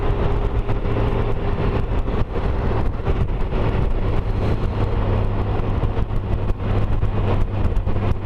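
Motorcycle ride on a road, with a steady, loud engine drone and heavy wind rush that run without a break, with no talking.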